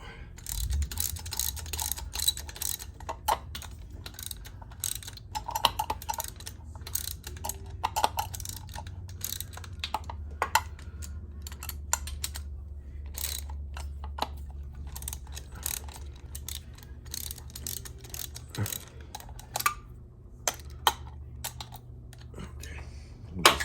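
A ratchet tightens bolts on the front end of a Harley-Davidson Street Glide, giving rapid, close clicking bursts in irregular runs over a low hum.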